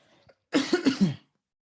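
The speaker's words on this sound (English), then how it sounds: "Let me clear my throat for this" A person clears their throat with a short series of three or four gruff, voiced rasps, close and alone after a brief faint sound.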